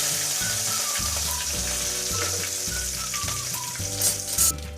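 Curry leaves crackle and sizzle in hot oil with mustard seeds and dried red chillies while tempering tomato rasam, a steady loud fry carrying short popping bursts near the end, no talking.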